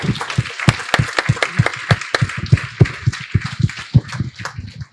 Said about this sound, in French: un dernier applaudissement pour toi